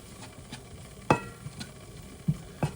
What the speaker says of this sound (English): You want to mix it with your onions and your garlic.